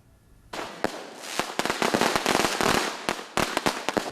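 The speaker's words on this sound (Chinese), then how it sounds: "热烈的炮声" A rapid, irregular string of loud firecracker bangs crackling close by at a Taiwanese Mazu temple procession, one sharp burst after another with no pauses.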